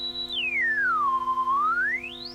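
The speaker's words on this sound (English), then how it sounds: "You can hear like the distortion created by the feedback here." A resonant Tranzistow synthesizer tone sweeps down, holds, then climbs again, with a steady buzzing harmonic drone and slight gritty distortion from filter feedback underneath.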